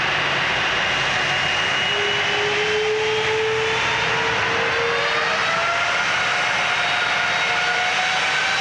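A jet airliner's engines roar steadily as it takes off from Manchester airport, a loud sustained rumble with rising whine tones that carries unbroken to the end.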